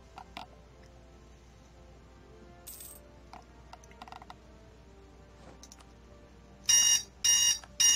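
Sparse clicks and mechanical ticks, then a loud electronic buzzer in the strategy video game Europa Universalis IV sounds in three short, sharp bursts.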